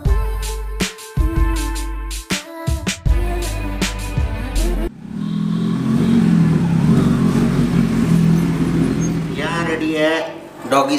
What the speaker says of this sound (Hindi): मलीना, हट बेटे हट हट, मेरे को बाइक अंदर खड़ी करनी है बेटे